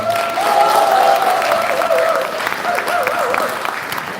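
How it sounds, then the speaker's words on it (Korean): A crowd at a local political party lecture event applauds loudly and continuously, with tonal voices or cheers weaving through the clapping. "박수 한번 다 부탁드리겠습니다"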